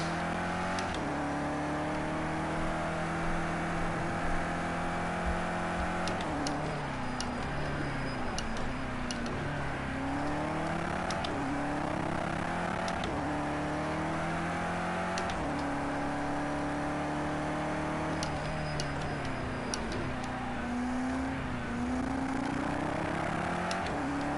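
BMW M6 GTE race car in a racing video game, its engine droning steadily throughout with rising and falling pitch as it shifts gears and changes speed, with brief clicking ticks over the top.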